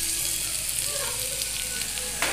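Sliced potatoes frying in hot oil in a pan for a Bengali puin leaf dish, a steady close sizzle that crackles evenly throughout with a brief stir near the end.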